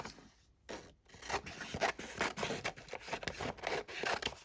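Paper is trimmed for a Halloween junk journal cover topper with quick rasping, rubbing cuts that come in a brisk, uneven run, close and quiet, with no talking.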